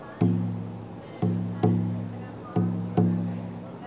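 A slow, quiet drum beat: soft low thumps in pairs, spaced and steady, each fading out before the next, with nothing else playing.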